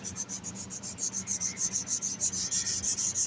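Rhythmic back-and-forth rubbing of high-grit sandpaper on a wooden knife handle, about twenty quick, even, close strokes with a soft hiss, no talking.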